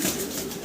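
A pair of German Beauty Homer pigeons giving a brief, faint soft coo, heard alone.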